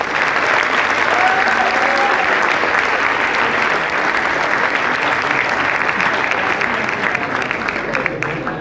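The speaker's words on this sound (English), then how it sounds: "Let's have a huge round of applause for all the winners." Audience at an annual prize distribution ceremony applauds the winners with a loud, dense, sustained round of clapping that fills the hall, a few voices and cheers mixed into the steady wash.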